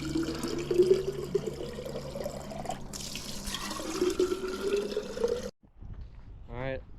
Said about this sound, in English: like a hose we could fill up our water bottles with?